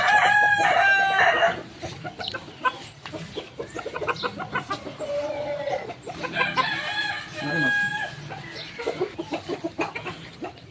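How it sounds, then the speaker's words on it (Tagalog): Roosters crow loudly and hens cluck in a Filipino farm yard of gamefowl, repeated calls and clucks overlapping through the whole stretch. "painumin natin yung ano, mga manok natin"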